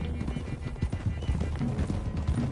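Horse hooves clip-clop steadily as a group of riders travels across Western hills in a cowboy video game, with an occasional whinny, moderately loud over low background rumble.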